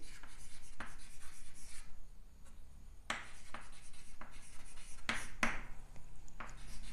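Pen strokes scratching on paper, close and clear, in quick irregular bursts of short scrapes with brief pauses between words, no voices over them.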